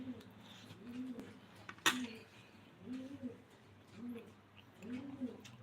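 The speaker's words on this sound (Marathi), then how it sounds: "इकडे कबूतर आहेत" Pigeons coo in soft, repeated rounded calls about once a second, close by, with a sharp knock partway through.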